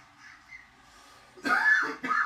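After a soft breathy inhale from a vape, someone coughs twice in quick, harsh bursts, close and fairly loud.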